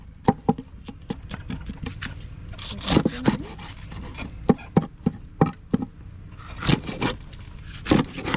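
A knife slices a fish into pieces at a Sri Lankan roadside fish stall, producing a series of sharp, irregular chops and scraping strokes against a board amid a low background murmur.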